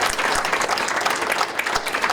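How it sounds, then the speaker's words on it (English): Audience applause for elected officials at a legislative breakfast, a dense steady round of clapping from a crowd that holds at an even level for the whole stretch. "Let's give our elected officials a round of applause."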